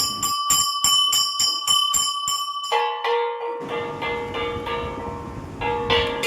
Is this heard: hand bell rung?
yes